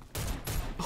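Kalashnikov USA Komrad 12 shotgun firing in the Warface game on PC, two quick, loud, full-bodied blasts less than a second apart.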